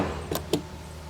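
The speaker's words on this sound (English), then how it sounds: "So when I close the door" A car fuel filler door produces two quick, soft mechanical clicks as it closes and locks, faint and close in a quiet setting.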